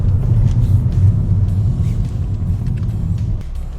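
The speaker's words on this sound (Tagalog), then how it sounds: "traffic talaga dito guys" Steady low rumble of city street traffic in Vancouver on an afternoon, cars and heavier vehicles passing continuously with occasional hiss, loud and close with no speech.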